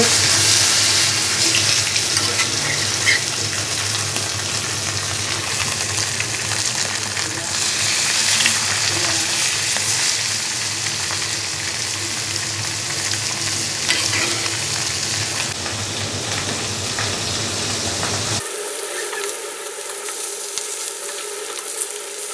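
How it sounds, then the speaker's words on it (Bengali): Marinated fish fries in a pan on a homemade rooftop stove, giving a loud, steady, hissing sizzle for about eighteen seconds before it abruptly drops to a much quieter background. "মাছ ভাজা নিচ্ছে"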